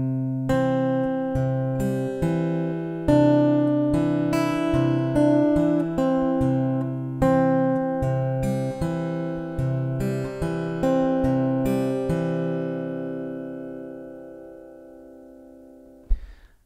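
A fingerstyle acoustic guitar plays a steady picked pattern of bass notes and chords, clear and close, ringing out for several bars before fading.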